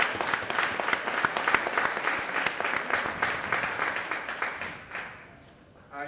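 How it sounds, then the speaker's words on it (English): Sustained audience applause at a poetry event, dense and steady for about five seconds before thinning out near the end. "Give a big round of applause to Greece."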